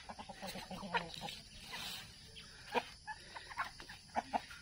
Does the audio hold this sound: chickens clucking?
yes